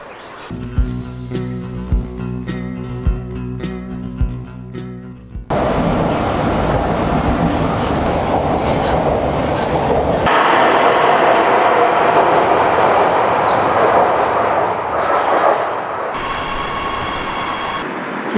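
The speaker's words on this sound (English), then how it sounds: "Now the metro line is over there in the distance" A Shanghai Metro Line 9 train passes in the Songjiang district. A few light clicks come first, then a loud, sustained rumble of wheels and carriages rushes by and lasts to the end.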